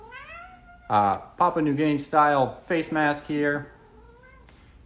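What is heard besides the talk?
cat meowing in the background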